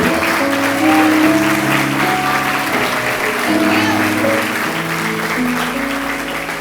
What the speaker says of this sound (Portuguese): Pode aplaudir o Senhor, aleluia.